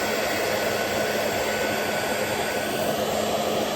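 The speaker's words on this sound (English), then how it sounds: "let's give it a couple of minutes on the hairdryer and see how it goes" A hairdryer running at full power to heat an Xbox GPU heatsink, a loud, steady, close-up blowing roar with a constant motor whine and no variation or talk.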